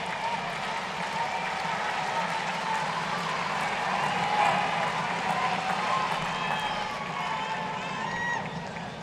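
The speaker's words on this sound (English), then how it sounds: "The stadium is now cheering the Djokovic" Stadium crowd at a US Open tennis semifinal, Djokovic against Nishikori, a steady broad roar of cheering and scattered applause filling the space, with a commentator's voice faintly under it.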